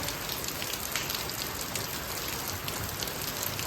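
Heavy rain pours down steadily, a dense, even hiss of drops hitting surfaces without a break.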